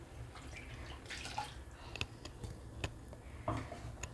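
Water splashes and drips in a mixer jar being rinsed, with scattered clinks and knocks nearby.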